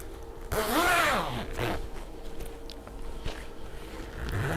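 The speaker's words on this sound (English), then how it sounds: "I'm going to zip on my bottom left to the quilt back roller." A zipper attaches a quilt to the back roller of a quilting frame, heard as a loud rasping zip near the start followed by quieter rustling and handling sounds.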